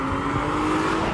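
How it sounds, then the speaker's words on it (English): An Audi S5 Sportback gives a brief, steady, raspy exhaust drone, loud and close, with no voices over it. "the S5 has a raspy exhaust note to add to that sporty feel"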